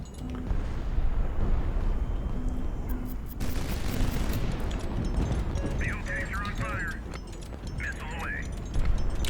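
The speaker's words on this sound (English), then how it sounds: "So just launch a couple of missiles now" Missile launches in the naval combat game Highfleet: a sudden loud blast followed by a run of rumbling, crackling detonations and launches, with someone talking throughout and electronic beeps near the end.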